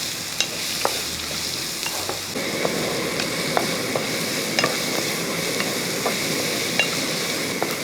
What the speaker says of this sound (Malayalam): ആ സവോളയും കൂടി ഇട്ടതിന് ശേഷം നന്നായിട്ടൊന്ന് വഴറ്റിയെടുക്കണം.